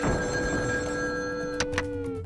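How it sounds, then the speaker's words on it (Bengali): A cartoon telephone bell rings steadily and loudly throughout, a sustained electronic ring with a couple of brief knocks near the end and no talk. "পরপর ভুতুড়ে ফোন আসছিল তো"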